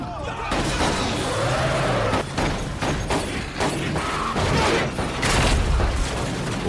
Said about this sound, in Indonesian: Namun tiba-tiba Steve menembak John beberapa kali di bagian dadanya